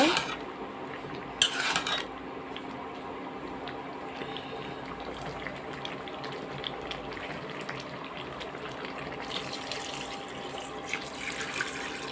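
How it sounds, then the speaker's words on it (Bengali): Water goes into a cooking pot of radish and eggplant with hilsa fish after the spices are fried, a steady close pour and trickle with a few clinks of the pot at the start and near the end. "এখন আবার একটু জল দিয়ে দিব"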